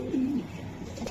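A racing pigeon gives a short, soft coo, one low warbling phrase near the start followed by faint background noise, with no talking.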